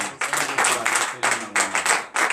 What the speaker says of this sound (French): Donnez de vives acclamations